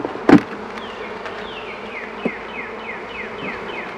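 Honeybees buzzing around an open beehive during an inspection, a soft continuous hum with individual bees passing near, plus a sharp knock early on and a faint repeating chirp in the background.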